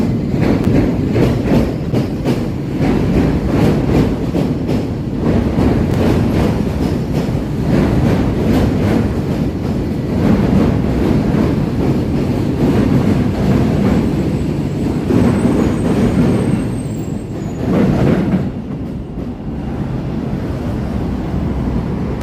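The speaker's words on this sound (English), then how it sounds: "Here comes the L train here." A Chicago L elevated train rumbles past on its overhead tracks downtown near Wacker Drive, a loud, continuous roar with clattering wheels that holds steady for about twenty seconds before easing slightly at the end.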